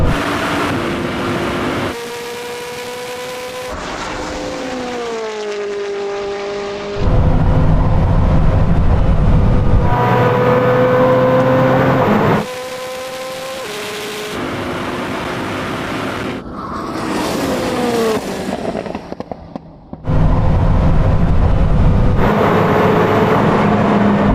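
Koenigsegg Jesko and Bugatti Chiron Super Sport drag racing, loud engines roaring through a string of rising gear pulls with brief drops at each shift, the note swelling and receding as the hypercars pass, no talk over it.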